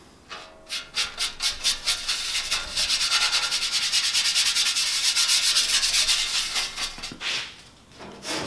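A frothy grey liquid is rubbed by hand into a bare panel on a 1969 Ford Capri under restoration, making brisk close scrubbing strokes that start as distinct rhythmic rubs and merge into a continuous abrasive swish.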